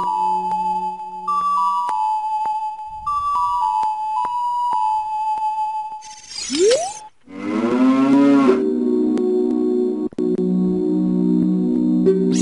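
A cow mooing in The Legend of Zelda: Ocarina of Time, heard after chiming ocarina melody notes: a long, loud, low moo near the middle that ends in a sustained tonal tail.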